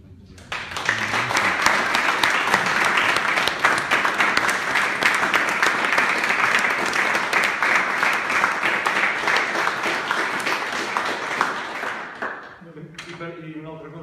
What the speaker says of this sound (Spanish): amb un aplaudiment agraïm la seva presència